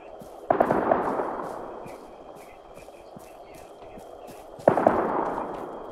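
Two sharp gunfire bursts in the Arma 3 military shooter, each striking loudly and then trailing off in a long decaying echo across an urban street, with faint crackling in between.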